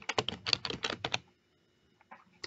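Rapid typing on a computer keyboard while entering a name into the NetSuite global search bar, a dense burst of close clicking keystrokes for about a second, then a pause and a few scattered, quieter key presses.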